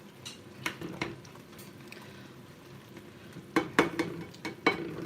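Stirring and frying in a pan while cooking kebab in a home kitchen, with intermittent scraping clatters over a low steady sizzle, louder bursts near the end.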